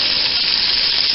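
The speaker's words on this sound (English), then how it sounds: "in on my hamburger when it's frying." Hamburger meat and onions frying in a pan on a stovetop, a dense continuous sizzling hiss, loud and close, with no talk.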